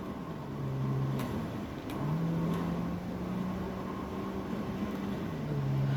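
Car engine from GTA 5 during a chase, a steady droning hum with shifting pitch as the engine revs and eases, continuous and fairly close with a few faint ticks.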